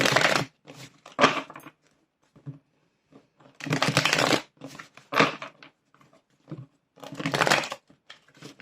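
Bursts of riffling tarot card shuffles, close and crisp, three longer runs separated by shorter flicks and quiet gaps, with no voices.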